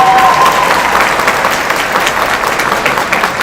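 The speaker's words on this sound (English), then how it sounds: "I think we should give them a round of applause for that." An audience claps throughout a graduation ceremony, a steady, dense wash of applause that fills the room for a few seconds without letting up.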